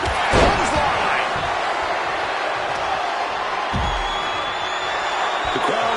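A clothesline slam in the WWE 2K26 wrestling game lands as a loud thud near the start, followed by more body impacts over a steady arena crowd roar, with commentary voices talking throughout.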